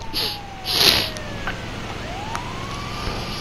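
An ambulance siren wails in the GTA V video game, a rising and falling tone sweeping up and down alongside short bright clanks and traffic noise, moderately loud with no talk.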